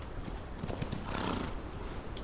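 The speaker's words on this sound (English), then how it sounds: "Oh, God's sake, horse." Horse whinnying and snorting in the Old West video game Outlaws of the Old West, a loud, agitated neigh in the middle with hoof clatter and movement around it, on an icy lake.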